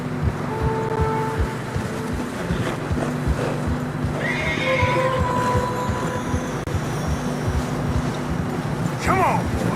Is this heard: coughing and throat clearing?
no